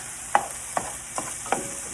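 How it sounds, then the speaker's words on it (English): Steady sizzle of bacon frying in a pan, with four sharp scraping clicks of a utensil stirring at regular intervals. "We got some bacon frying up. Let's get that stirring a little bit."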